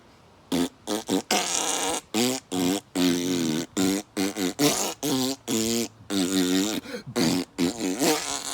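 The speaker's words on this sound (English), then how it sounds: "there is an instrument called the kazoo, and it sounds just like fart noises when it's blown into." A kazoo is blown into so it sounds like farting: loud, close, buzzy blasts in about a dozen bursts of varying length, each separated by short silences.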